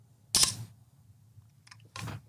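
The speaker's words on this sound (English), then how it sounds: "That's the sound of the shutter," A brand-new manual film camera's shutter firing: a sharp mechanical click-clack up close, followed after a quiet gap by a second softer mechanical snap.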